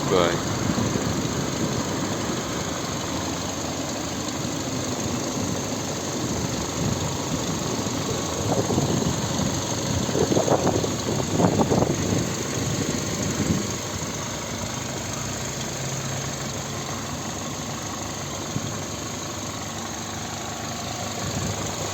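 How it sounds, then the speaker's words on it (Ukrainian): A 2008 VW Golf V 1.6 MPI petrol engine idles evenly close by, with someone talking over it partway through before the steady rumble continues alone. "Ось слухайте, дивіться, робота двигуна."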